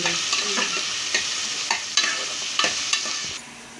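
Three onions and two green chilies frying in hot oil as a spatula stirs them. A steady close sizzle is punctuated by about half a dozen crisp scraping strokes, and the sound briefly eases near the end; nobody speaks.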